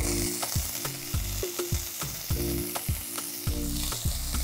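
Anchovies and shaved corn fry in a hot pan with a steady sizzle, broken by regular scraping and stirring knocks roughly every half second, close and fairly loud, with no voices.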